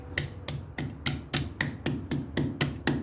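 Ingredients for spiced buttermilk are pounded to crush them, producing about eleven sharp, evenly spaced thuds in a steady rhythm, close and clear with no voices.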